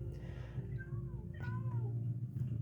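A cat in a bakery-building video game gives a few soft, rising meows over a steady low hum of game background sound.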